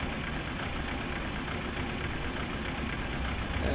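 Boeing 737-800 jet engine running in the PMDG flight simulator, a steady, even broadband roar with a constant hum and no change in level, heard alone with no voices.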